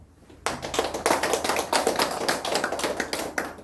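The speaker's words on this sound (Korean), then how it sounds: "그럼 박수 한번 보내주세요" An audience at a Korean religious gathering breaks into applause after a brief quiet moment, a close, lively burst of many hands clapping at a brisk, even rhythm that continues to the end.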